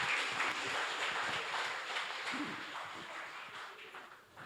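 Audience at a Murugan devotional gathering gives a sister warm applause: a broad wash of clapping, strongest at the start and slowly thinning toward the end, with no voices standing out.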